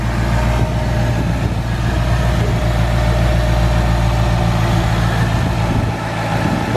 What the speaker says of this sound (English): You hear a lot more air sucking in.